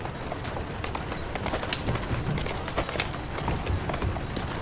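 Horse hooves clip-clop in quick, uneven steps on a hard street in Assassin's Creed Syndicate, set among faint background ambience with birdlike chirps.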